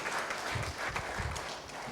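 Applause from a church congregation during an online worship service, a steady wash of many hands clapping at moderate distance, fairly quiet and continuous with no talk over it.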